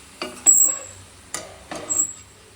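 Cooked lentils for a sweet holige filling with jaggery and coconut are spooned into a pan and stirred, giving three close scraping, thudding bursts over a faint background hiss.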